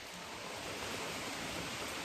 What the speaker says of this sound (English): as soon as we got here, it started to pour